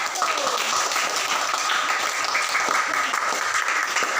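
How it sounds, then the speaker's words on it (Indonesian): Steady applause from a sizable group of primary school pupils in a classroom, dense and continuous throughout without pause or speech. "Beri tepuk tangan untuk kelompok 1"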